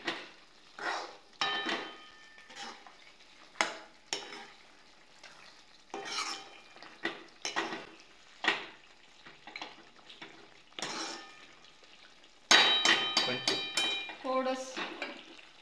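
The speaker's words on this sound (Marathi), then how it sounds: "शिजलेला आहे मसाला, त्यामध्ये मटण टाकून घेणार, छानपैकी हलवून घेणार।" A spoon repeatedly stirs mutton into cooked masala in a pot for a Kolhapuri tambda rassa dish, making close scraping and clinking strokes in an irregular rhythm, louder toward the end.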